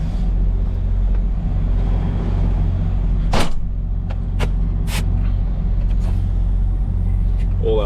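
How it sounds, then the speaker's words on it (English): Air brakes on a tractor-trailer truck hiss loudly in one sharp release burst, followed by a few shorter hisses over a steady, rumbling idle of the diesel engine, recorded close by. "All our brakes are off."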